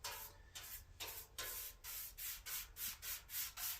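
Total Boat metal prep is brushed onto metal in repeated back-and-forth strokes, a soft, close rubbing swish in a steady rhythm, about eight strokes.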